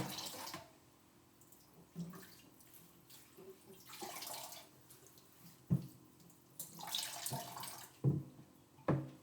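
Water thrown from a container onto a garden, heard as several separate splashes and pours at irregular intervals, with quieter handling and trickling sounds between them.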